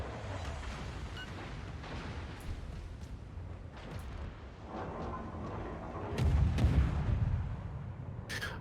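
Naval combat in a video game: a dense, continuous barrage of gunfire and heavy booms aimed at the player's ship, with one louder, closer blast near the end amid rumbling explosions.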